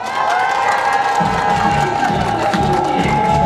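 A large crowd cheers and applauds at an outdoor People's Party political rally in Daejeon, a dense, loud, steady roar with shouts and a sustained tone running through it.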